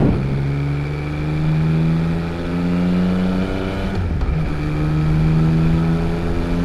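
A Yamaha XSR900 25th Anniversary motorcycle engine pulls away on a ridge-line road, its loud, close, steady drone rising in pitch through the gears, with a brief shift dip before climbing again under constant wind noise.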